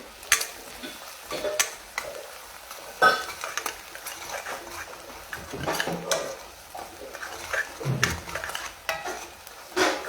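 Onions frying in a pan and being stirred, a continuous soft sizzle under repeated scraping strokes of a utensil against the pan, close and alone without talk.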